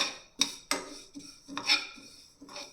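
Fennel, fenugreek, carom, cumin and mustard seeds dry-roasting in a pan, with a spatula clinking and scraping against the metal in a few sharp knocks between softer rustling stirs.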